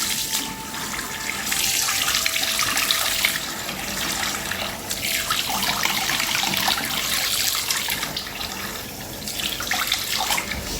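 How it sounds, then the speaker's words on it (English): Water runs steadily from a tap, a continuous close splashing hiss that rises and falls slightly in intensity throughout. "I just run some water"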